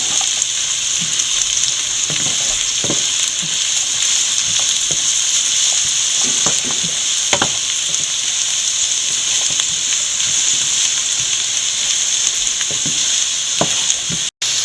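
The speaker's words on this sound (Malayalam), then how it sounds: "ഇഞ്ചിയും വെളുത്തുള്ളിയും കൂടെ നല്ലപോലെ വഴറ്റിയെടുക്കുക അപ്പോൾ സവോള ബാക്കിയും കൂടെ നല്ലപോലെ വഴന്ന് കിട്ടും" Onion, ginger and garlic sautéing in a pan give a loud, steady sizzle that runs throughout, with scattered scrapes and knocks from stirring.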